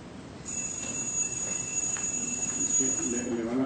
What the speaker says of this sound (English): Okay, that's my alarm clock going off.